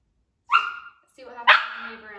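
A dog barks while standing with its front paws up on a stool during a training session: two close, loud barks, the second longer and ending in a whiny tail, with no other sounds around them.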